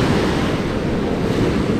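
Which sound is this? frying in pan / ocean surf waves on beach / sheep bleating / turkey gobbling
ocean surf waves on beach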